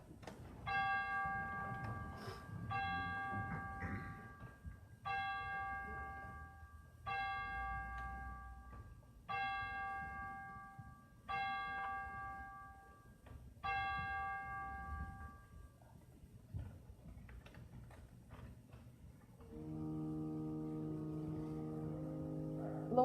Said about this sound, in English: we've heard the chimes this morning, a sound that is becoming way too familiar to us